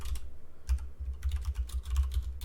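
Someone types quickly on a computer keyboard during a Minecraft session, with close, rapid, uneven clacking in short bursts and brief pauses.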